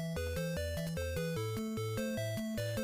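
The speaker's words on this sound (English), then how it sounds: "There's a soundtrack that I'm sure you're all familiar with." Tetris Game Boy soundtrack: chiptune melody in bright square-wave tones over a bouncing bass line, steady quick rhythm, clean and continuous with no voices.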